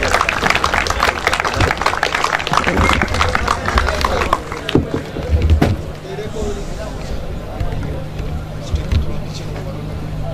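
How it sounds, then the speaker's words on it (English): A crowd claps together for several seconds, loud and dense, then the applause thins out into scattered claps and room murmur. "Please clap for them."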